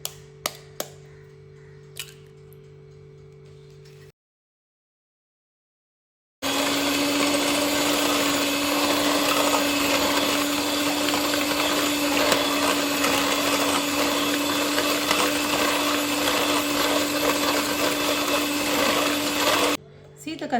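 An electric blender whirs through fruit cake batter with a steady, loud motor drone for about thirteen seconds, preceded by a few light clicks and silence, then stopping sharply.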